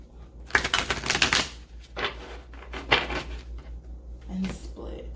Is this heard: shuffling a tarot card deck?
yes